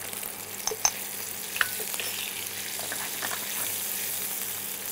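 Sliced ridge gourd sizzles and fries in a pan while being stirred for a Bengali katla fish curry with drumsticks, a soft, steady crackle broken by a few scraping clicks of the spatula, with no talking.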